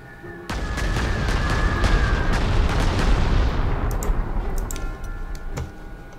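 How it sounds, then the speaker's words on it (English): Bombing explosions in the World War II strategy game Panzer Corps 2 roll out as a loud, sustained rumbling barrage with sharp cracks, fading into scattered ticks after a few seconds. "So maybe we'll go and bomb him."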